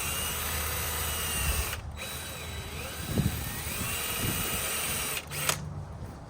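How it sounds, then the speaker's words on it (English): A power drill with a 3/8-inch bit whirs steadily through a plastic fender rivet on a Jeep Wrangler JK, the motor pitch wavering as it bites, with a couple of brief pauses. "So I just take a drill bit, like a 3/8 or something like that."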